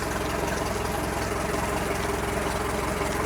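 An Aquasport center console boat engine idles with a steady, unbroken low throb and rumble, close and moderately loud, with no speech.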